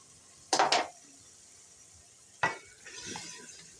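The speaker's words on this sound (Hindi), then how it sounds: "अब हम भून लेंगे तेज आंच करके" Potato curry masala frying and being stirred in a pan over high heat, with two sharp utensil scrapes near the start and another later, followed by a soft sizzle; no talking.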